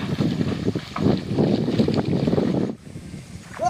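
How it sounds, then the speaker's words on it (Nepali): Wind blows beside a deep river stream, a steady rough gusting rumble buffeting the microphone, loud for a few seconds and then easing to a quieter hush. "यस्तो हावा चलिरहेको छ।"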